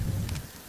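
Steady rain in a street where a homeless woman goes out scavenging, a dense low wash with brief brighter spatters, continuous and fairly close with no voices.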